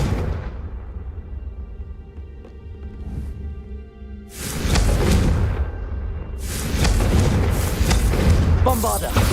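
A Confringo spell blast in Hogwarts Legacy, heard as two loud, close, booming explosions a couple of seconds apart. Each has a rushing, broadband burst that follows a quieter stretch of ambient game sound.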